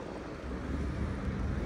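Steady outdoor wind buffets the microphone on a street in Berlin Mitte, a continuous low rumbling roar that swells slightly after the first half second and holds loud and close throughout, with no talk.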